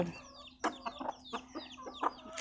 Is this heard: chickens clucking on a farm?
yes